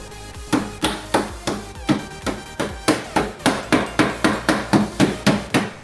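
A hammer pounds a damaged Nissan NV400 van door in a steady run of about twenty heavy metallic blows, loud and close, evenly spaced at roughly three strikes per second.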